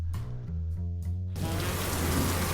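Rain effect from the Pokemon Omega Ruby video game: a dense, steady hiss of rainfall cuts in abruptly after a short stretch of tonal game music and continues loud to the end.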